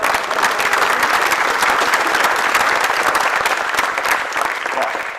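An audience at a campaign Q&A session breaks into loud, sustained clapping, close and dense, holding steady for several seconds before easing slightly at the end.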